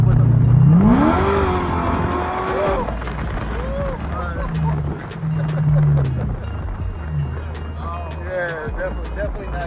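A supercharged Chevrolet C6 Corvette engine revs hard with a rising supercharger whine as it accelerates, then settles into a loud rumbling cruise, with people talking over the engine.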